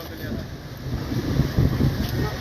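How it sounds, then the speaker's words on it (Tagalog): Strong typhoon wind roars in a steady, loud outdoor rush, buffeting the microphone, with a faint voice underneath. "Malakas pa rin ang hangin."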